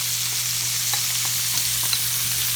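Chicken wings fry in hot oil at home with a loud, constant sizzle, scattered with small pops and crackles, heard close up and with no talking.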